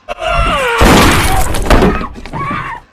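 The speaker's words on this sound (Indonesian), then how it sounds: "Mendengar suara tembakan dari dalam mobil, Bobby dan Doc langsung berlari menuju mobil" A loud, sharp bang bursts out amid dense noisy rumble, followed by a second impact and a sustained clattering roar before fading near the end.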